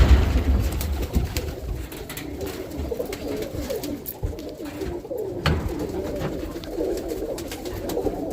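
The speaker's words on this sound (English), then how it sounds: "those are must-have pigeons" Pigeons cooing inside a loft of roller pigeons, a dense chorus of low throaty coos overlapping continuously and close by, with faint rustling and no talk.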